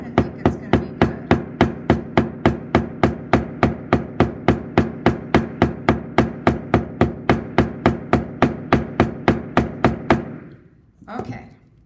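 A hammer pounding flowers onto a surface for flower-pounding art, about thirty steady, evenly spaced sharp thuds at close range, stopping abruptly, followed by a brief rustle.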